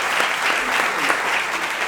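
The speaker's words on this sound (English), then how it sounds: "Give them a nice round of applause." A seated audience claps steadily after a group's performance at a jazz event, a dense wash of hand claps lasting under two seconds, fairly close, with no voice over it.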